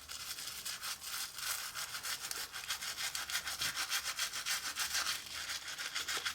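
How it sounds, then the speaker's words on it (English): A Rolex watch scrubbed clean with a brush, a rapid, rhythmic bristly rasping of quick back-and-forth strokes, steady and close throughout. "As you can see, I'm actually scrubbing it quite nicely, covering all the corners."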